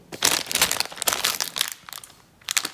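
Plastic parcel bag crinkles loudly and continuously while a Lego order is unpacked, close crackling bursts with a short lull before the rustling resumes.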